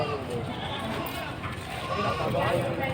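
Goats bleat among livestock at a market in Padre Garcia, Batangas, with several overlapping calls amid steady crowd bustle, while someone talks nearby.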